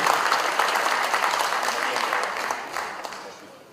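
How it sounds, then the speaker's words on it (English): Audience applause for Anies Rashid Baswedan as he is introduced at a formal evening event, loud dense clapping that gradually fades toward the end. "Please give an applause for Mr. Anies Rashid Baswedan"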